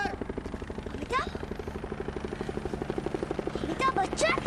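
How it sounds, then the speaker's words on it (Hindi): A helicopter's rotor chops in a rapid steady pulse throughout, loud and close, while people shout and talk over it. "अमिताभ का हेलीकॉप्टर।"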